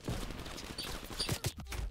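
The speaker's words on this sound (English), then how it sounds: "Oh shit, I'm getting shot at." Rapid gunfire rattles through a sniper video game match, with dense overlapping shots and a few sharper close cracks in a continuous two-second barrage.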